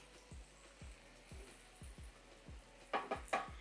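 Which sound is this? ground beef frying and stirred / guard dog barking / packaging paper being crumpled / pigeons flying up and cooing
ground beef frying and stirred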